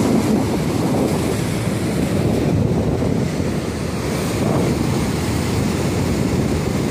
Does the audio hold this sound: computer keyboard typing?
no